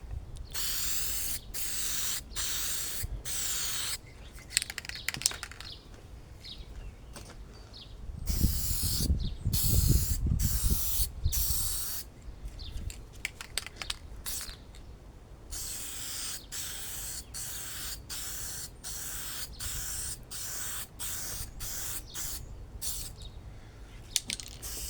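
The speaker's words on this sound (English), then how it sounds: "And we're coming in for the last clear coat." A spray can lays the final clear coat on a 3D-printed RC vehicle part, giving repeated close hissing bursts of varying length with short pauses between, one longer heavier spray in the middle.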